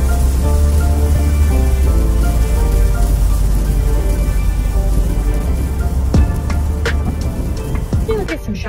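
Steady rain beats on a car during a DoorDash delivery drive, a loud, continuous hiss with a few sharper drops and knocks near the end.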